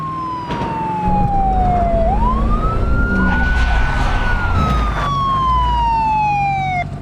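A wailing police siren on a detective car sweeps down, then rises and holds a long steady tone before falling again, loud and close over a low vehicle rumble.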